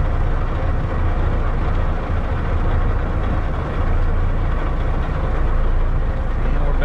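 A blue cabover truck's engine runs loud and steady at close range as the rig is put in gear and begins to pull away, a continuous low rumble with no breaks.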